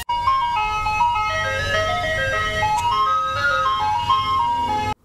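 Ice cream truck chime playing a continuous electronic jingle melody over a low engine rumble, steady and fairly close throughout, with no talk.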